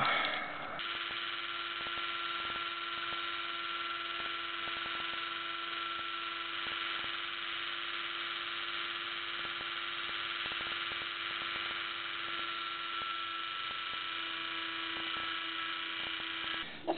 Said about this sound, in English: Kind of drilling more than I am Dremeling